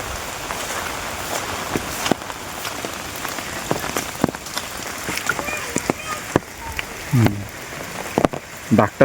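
Rain patters steadily on a surface in the Konkan, with scattered sharper drops and a few brief louder splashes near the end.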